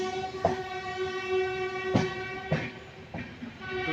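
Lichchhavi Express passenger train on its Anand Vihar to Sitamarhi run, a sustained tonal rumble of the moving train with repeated metallic clunks and rail knocks rising and falling, heard close and moderately loud.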